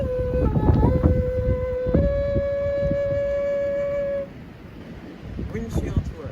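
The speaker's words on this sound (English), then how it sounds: "Just waiting for a good wind. Here it comes," Wind gusting across a flute makes sustained breathy tones that step between pitches and hold, then cut off abruptly, outdoors with rustling wind noise beneath and a faint voice near the end.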